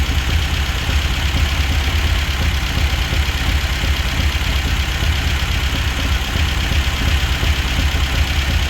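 An MGB's engine with a Weber DCOE carburetor idles just after a cold start, a steady, loud, continuous rumble with even low pulsing throughout and no talk.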